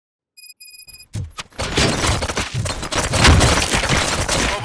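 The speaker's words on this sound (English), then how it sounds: "Gunshots? What's going on?" Rapid bursts of gunfire in the video game Robocop: Rogue City, loud and close, with a few short sharp shots followed by dense continuous firing and crashing impacts, alone without speech.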